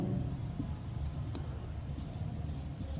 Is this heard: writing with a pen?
yes